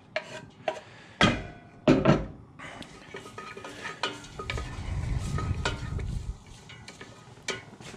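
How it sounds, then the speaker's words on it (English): Shallots and onion softening in melted butter in a pan, a soft sizzle under stirring and a few sharp knocks of utensils against the pan, close by with no voices. "we're going to put the shallots and onion into the pan just to soften up"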